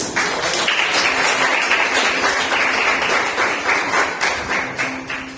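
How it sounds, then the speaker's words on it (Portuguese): A church congregation claps together in praise, with sustained, fairly close applause and some rhythmic taps running evenly for several seconds before tapering slightly. "Você pode aplaudir o Senhor?"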